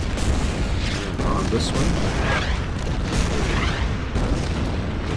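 Artillery fire in the World War II strategy game Order of Battle: Panzerkrieg, a dense sustained rumble of booms and blasts with someone speaking briefly over it.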